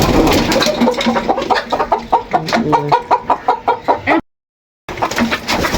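Kadaknath black chickens cluck loudly and close by in a busy, rapid series of calls, broken by a brief moment of silence before the clucking resumes.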